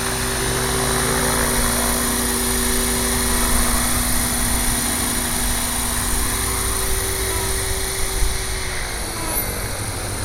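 A Gaui 550 electric RC helicopter lands with a steady, loud rotor and motor whine and hum that holds evenly throughout, with no talking.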